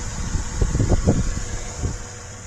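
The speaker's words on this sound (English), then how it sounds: "Smooth running little vehicle." Idling engine of a 1997 Toyota 4Runner Limited, a steady low hum under a constant fan-like hiss, with a few soft thumps and knocks nearby.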